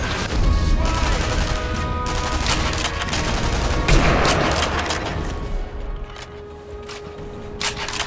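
Sniper Elite V2 multiplayer gunfire: dense, loud volleys of rifle and automatic shots crackle continuously, thinning toward the end, with a player's voice briefly heard under the shooting.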